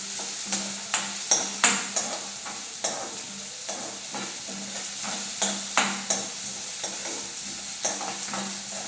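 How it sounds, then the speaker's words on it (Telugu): Ginger garlic paste fries in hot oil in a pan, with a steady sizzle and repeated scraping stir strokes of a spoon against the pan, close and clear, with no one talking. "అల్లం వెల్లుల్లి పేస్ట్ కూడా బాగా ఫ్రై అవ్వాలండి ఆయిల్లో"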